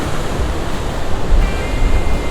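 Loud, steady roar of ocean surf churning and surging into a sea chasm at Devils Churn on the Oregon Coast, dense and continuous with a wind-like wash throughout.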